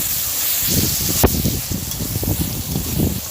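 Chopped onion and tomato fry with salt in a pan for a Bengali catla fish and ridge gourd curry, a steady close sizzle broken by rhythmic scraping stirs and one sharp clack.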